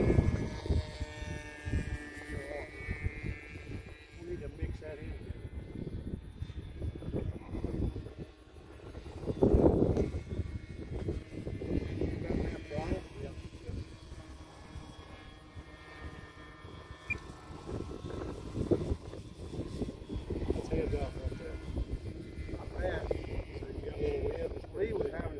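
A large electric Stearman model biplane flying during early testing, its motor whine rising and fading as it passes, with wind buffeting and people talking throughout.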